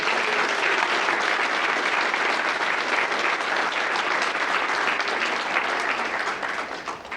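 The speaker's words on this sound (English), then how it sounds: "let's have another round of applause for my predecessor" A crowd at a community thank-you event gives sustained applause, a thick, even roar of many clapping hands that holds steady for about seven seconds before starting to thin out, with no talking over it.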